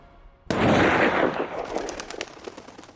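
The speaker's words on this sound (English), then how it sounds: "When we hear the gunshot," A single loud gunshot cracks suddenly and dies away in a long fading echo, standing alone with no talk around it.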